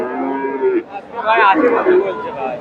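A Friesian bull at the Dhaper Haat livestock market in North Bengal gives a loud, close, drawn-out moo that wavers in pitch for a few seconds.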